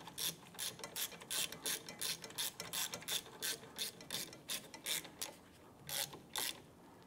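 Ratchet wrench snugging down the rear caliper bolts on a 2005-2007 Ford Five Hundred, a close series of about fifteen quick clicking bursts in a steady back-and-forth rhythm with short pauses between strokes.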